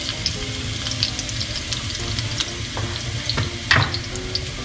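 Garlic fries and browns in a pan with a steady close sizzle and occasional soft clicks and stirring scrapes throughout.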